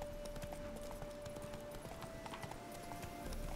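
Horse hooves clip-clopping steadily on a road as a rider heads toward the main street in The Witcher 3: Hearts of Stone, a continuous rhythmic gallop with a faint whinny hint, no talk.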